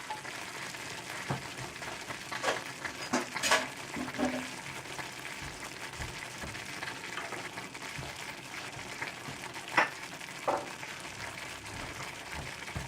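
Spaghetti sauce reduces in a pan, with a continuous bubbling sizzle broken by scattered pops and spatters, moderately quiet and without speech.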